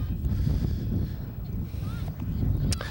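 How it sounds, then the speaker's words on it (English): Strong wind buffets the microphone at an outdoor soccer field on a rainy, wind-swept day, a loud, continuous low rumble that gusts unevenly throughout. "It's extremely windy."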